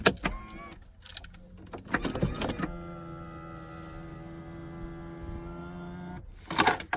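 A starter motor cranks a Lexus GS300 engine in a project boat, a steady electric whine holding for several seconds between clattering workshop knocks and handling sounds.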